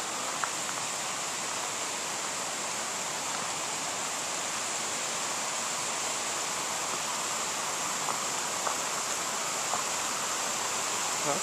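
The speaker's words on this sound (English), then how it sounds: "This is a nice spot where there's like 2 streams coming down out of the mountains." Two mountain streams flow at a North Georgia campsite, giving a steady, even rush of water that fills the scene without pause, with a couple of faint knocks and clicks on top.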